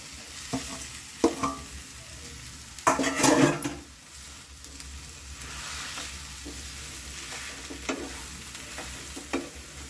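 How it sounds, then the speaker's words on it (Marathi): Green pea batter is added to well-sautéed masala in a pan and stirred for matar rolls. Scraping stir strokes and a loud burst near the start ride over a steady low sizzle, close up and without talk. "आता मी हे वाटाण्याचं बॅटर टाकून घेते मसाला."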